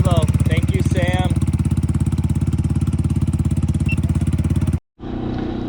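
A Polaris RZR 200 youth side-by-side with an upgraded exhaust runs at a steady, loud, rapid-pulsing idle close by, then cuts out abruptly before a brief rumble returns; a voice is heard over the engine early on.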